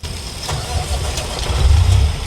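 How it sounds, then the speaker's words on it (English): Truck engine in American Truck Simulator cranking and catching, settling into a deep, steady low rumble that swells louder toward the end of the short burst, with no talking over it. "Start this truck."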